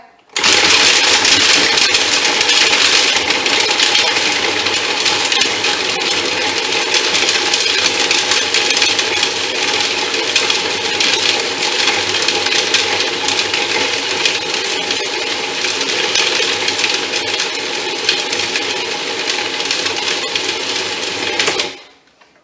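Food processor blending a peanut butter energy bite mixture with chocolate and dried fruit, a loud steady motor whir running continuously for about twenty seconds before cutting off.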